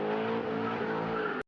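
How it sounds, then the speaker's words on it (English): A car engine revs hard, a loud sustained roar with tire squeal, running unbroken before cutting off abruptly near the end. "Rev up your engines!"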